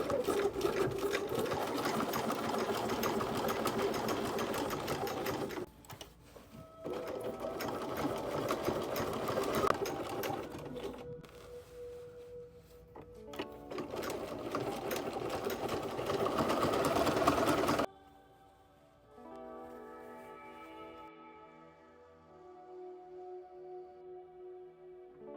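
Sewing machine stitching a boning channel on a dress, running in close, steady bursts with short pauses between runs, then falling quiet toward the end.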